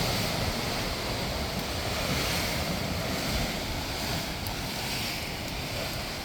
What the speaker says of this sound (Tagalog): lakas ng alon dito sa kabila sa side na to